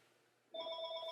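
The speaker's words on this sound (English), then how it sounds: "Sorry about that phone ringing." A telephone starts ringing halfway through, a clear electronic trill that holds steady against a quiet room with no talking.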